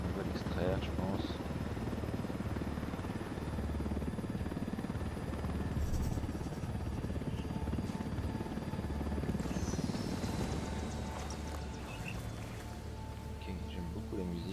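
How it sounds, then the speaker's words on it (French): A helicopter rotor runs steadily in the Ghost Recon Wildlands video game, a dense continuous whirring drone that fills the whole clip at an even level, with game sounds layered over it. "mais mon hélicoptère tourne toujours"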